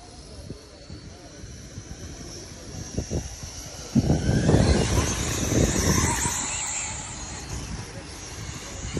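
Race cars roar out of turn four at a racetrack, a distant rumble swelling abruptly into loud, rough engine noise that stays heavy as the pack passes, with a voice talking over the start.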